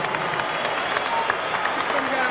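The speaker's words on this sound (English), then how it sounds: "let's have a round of applause for these two heavyweights" An arena crowd in Atlantic City applauds and cheers after twelve rounds of the Holyfield vs Foreman heavyweight boxing bout, a broad, sustained wash of clapping and crowd noise with a voice speaking over it.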